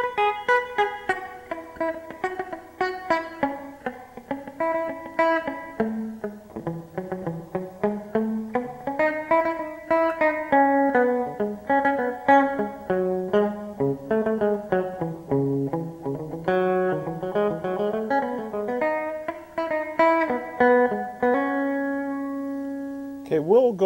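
Electric guitar on the lead (bridge) pickup plays a continuous run of pentatonic notes in an R&B style, clear single notes and bends over about twenty-four seconds with no talking.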